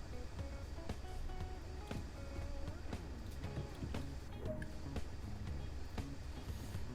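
A Class 37 diesel locomotive idling on the Tees Valley Line in Train Sim World 2, a steady low rumble of the engine running continuously with faint tonal whines and clanks layered over it.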